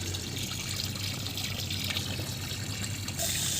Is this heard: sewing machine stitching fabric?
no